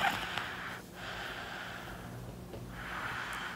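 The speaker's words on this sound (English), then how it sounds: "He's snoring." A sleeping baby snores softly, with slow breathy snorts and wheezy inhales repeating at a gentle rhythm, close by and quiet, with no talking.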